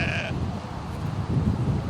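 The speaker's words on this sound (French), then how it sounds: "ça s'appelle la brebis du Cameroun" Sheep of the Cameroon breed bleating on a French farm, a short nasal call at the start followed by low shuffling and rustling from the flock, fairly close.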